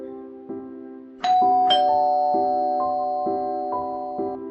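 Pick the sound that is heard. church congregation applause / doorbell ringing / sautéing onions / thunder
doorbell ringing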